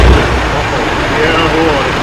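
A Peterbilt 359 truck engine cranks and fires at the very start, then settles into a loud, steady low rumble of idling that runs throughout.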